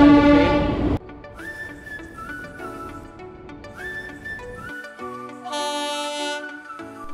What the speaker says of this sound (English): The train makes constant noise